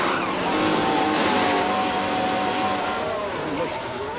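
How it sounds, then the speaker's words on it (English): An F1 car entering the pits at Italy in F1 Manager, a loud sustained engine whine with shifting pitch and a faint tyre squeal, holding fairly steady before easing slightly toward the end. "Ocon dives into the pits."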